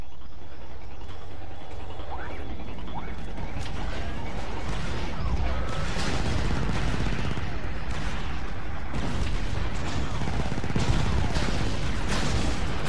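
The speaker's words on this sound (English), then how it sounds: "Chain gun." Chain gun firing in Star Wars Battlefront 2 on the Kashyyyk map, a dense, continuous rattle of rapid shots with crashes mixed in, holding steady and loud throughout.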